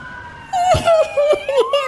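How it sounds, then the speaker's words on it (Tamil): A police siren wails in a steady rising and falling pattern, fairly close and loud, with brief bursts of background noise. "அது ஆம்புலன்ஸ் சத்தம் இல்ல பாஸ் போலீஸ் வண்டி"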